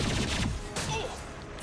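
Heavy weapon fire erupts in Mass Effect 2 as a loud, dense burst of blasts and crashes in the first half, trailing off into a rumbling decay.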